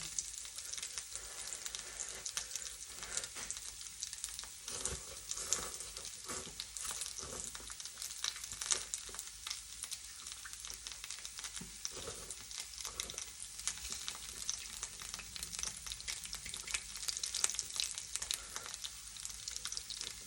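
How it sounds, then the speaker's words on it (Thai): Steady, close sizzling and crackling of pork frying on a hot grill pan, continuous and even throughout with no talking. "น่ากินนะแป๊แป๊เสียงหมูแตก"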